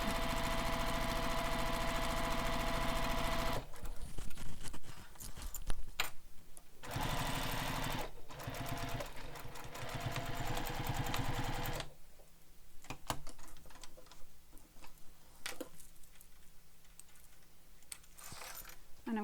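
A domestic sewing machine stitches the side of a bag in several bursts, its rapid mechanical whir starting and stopping with short pauses and back-stitching between runs.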